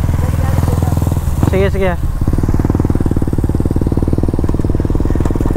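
A Yamaha NMAX scooter and a Sniper 155 motorcycle with its VVA deleted idle close by in a steady, rapid engine putter, while someone briefly speaks over the running motors.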